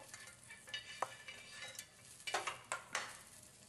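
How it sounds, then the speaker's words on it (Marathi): Chopped onion roasting in a pan, a quiet sizzle broken by several scraping stirs of a spatula against the metal, close and fairly faint with no talking. "नंतर यावर टाकून देते चिरून घेतलेला आपण कांदा यावर. हे पण असा खरपूस होईल तर भाजून घ्यायचा."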